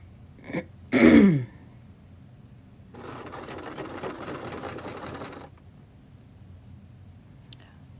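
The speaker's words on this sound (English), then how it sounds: "with the sewing machine or sew by hand to the points before the tip" Sewing machine stitching fabric for a homemade tie, running in one steady burst of rapid clatter for about two and a half seconds, preceded by a sharp nearby knock or throat-clearing sound.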